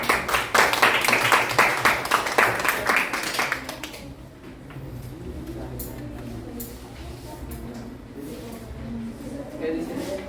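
A burst of rhythmic clapping from a small group lasts a few seconds, then fades as voices continue talking in the room.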